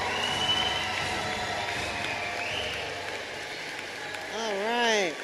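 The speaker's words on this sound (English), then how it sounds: "let's give a round of applause for the School of One class of" Graduation ceremony crowd giving a round of applause for the graduating class, a continuous mass of clapping and cheering with whistles, ending in a brief feedback-like tone.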